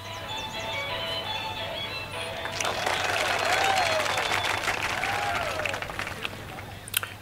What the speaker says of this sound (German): der Applaus ist sehr gerechtfertigt